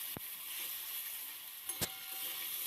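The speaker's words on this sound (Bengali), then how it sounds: "এখন আদা আর কাঁচা লঙ্কাটাকেও আলুর সাথে ভেজে নিচ্ছি" Ginger and green chilli paste frying with potatoes gives a faint, steady sizzle, broken by two brief sharp scrapes of stirring.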